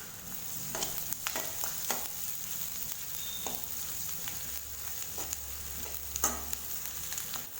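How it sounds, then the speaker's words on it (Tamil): Curry leaves frying in oil for an onion kurma, a quiet steady sizzle with occasional sharper crackles and pops scattered across the whole stretch, no talking. "கருவேப்பிலை பாருங்கள் எண்ணெயில் நல்லா பொழிய ஆரம்பிச்சிருச்சு"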